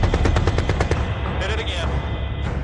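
Combat gunfire: a fast burst of loud, close automatic shots rattling in quick succession, then a continuous roar of rumbling fire and noise filling the rest.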